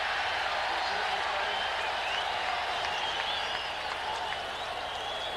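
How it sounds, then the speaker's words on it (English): A large football stadium crowd at a 1990 Raiders–Steelers game roars and cheers continuously, a dense wash of distant voices and clapping urging the defense on. "Crowd urging the Raider defensive unit on."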